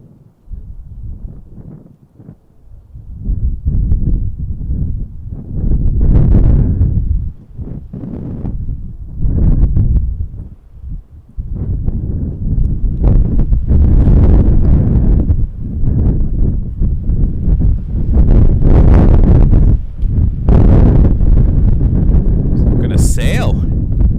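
Strong wind at Montréal-Trudeau International Airport buffets the microphone in loud, heavy rumbling gusts that come and go, with someone talking throughout.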